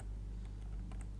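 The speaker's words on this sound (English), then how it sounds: "just type on your keyboard to control copy and paste it" Soft, quick taps on a computer keyboard sound over a constant low hum, a handful of light clicks in a brief burst.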